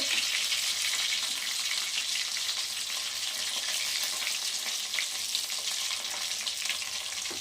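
Chicken patties frying in a pan, a constant bright hissing sizzle of hot oil that stays even and loud throughout, with no voices.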